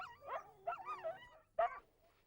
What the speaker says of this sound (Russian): Эти голубоглазые собаки, по-местному хаски, считаются породой настоящих колымских ездовых собак